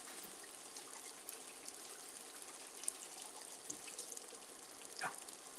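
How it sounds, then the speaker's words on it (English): A tap runs water over three Roma tomatoes being rinsed in a kitchen, a faint, steady hiss of flow with a few small splashes and no talking. "So we have 3 Roma tomatoes. Let's rinse these off."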